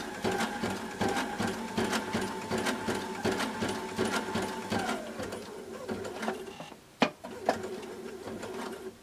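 A Sashiko sewing machine stitches a quilt with a steady, rapid mechanical whirring that runs continuously and then stops, followed by a couple of clicks, close and moderately loud, with no talking.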